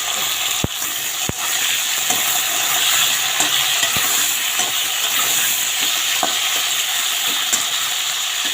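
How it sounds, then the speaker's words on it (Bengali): Potato and cauliflower pieces drop into a pan of hot oil tempered with cumin seeds and bay leaves, setting off a loud, steady sizzle with a few sharp clacks and stirring knocks early on. "এখন আমি এই যে কপিগুলো দিয়ে দিচ্ছি আলু ফুলকপিটা দিয়ে দিচ্ছি"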